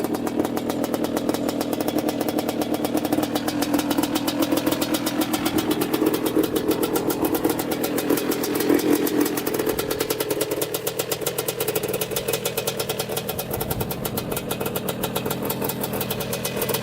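A small 250cc two-stroke quad engine with a new stator revs up steadily and holds a high buzzing pitch, loud and close, with a sharp rattling rasp throughout.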